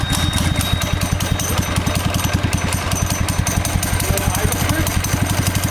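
A Predator 212 go-kart engine idles close up, a loud steady rapid chugging pulse that stays even throughout with no talk over it.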